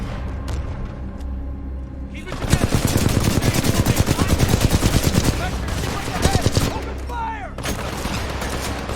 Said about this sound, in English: Every gun feels satisfying to use with punchy sound effects that, with the volume turned high enough, almost make you want to physically recoil from the power.